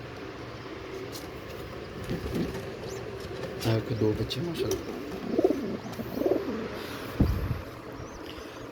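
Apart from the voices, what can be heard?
pigeons cooing in a breeding loft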